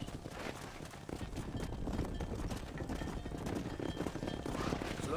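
Galloping horse hooves in Red Dead Redemption pound in a fast, continuous rhythm, close and steady across the whole stretch, with a faint whinny and no talking.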